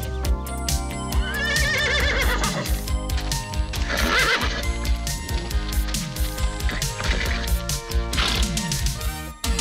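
A cartoon horse whinnies in a She-Ra Princess of Power animated episode. Wavering neighs rise twice over loud, busy orchestral music with crashing effects.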